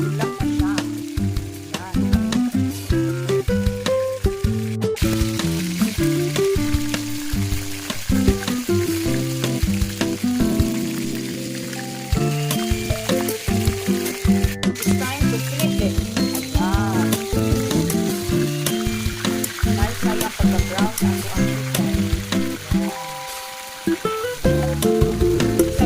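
Chicken frying in hot oil, a steady, loud crackling sizzle running throughout with music and some faint talk over it.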